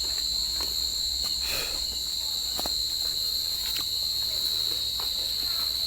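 A steady high chirping of crickets fills the night air outdoors, with scattered footsteps and rustling of someone moving through the grass close by.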